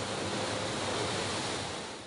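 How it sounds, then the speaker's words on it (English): Water released from tanks on a movie valley set rushes through as a raging river, a loud, dense, continuous roar of crashing water with no pauses. "the water would flow down and just come crashing through this valley set to give a huge amount of speed and volume to this raging river"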